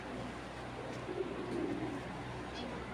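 Faint low cooing from pigeons fills the background, soft and murmuring under steady room noise.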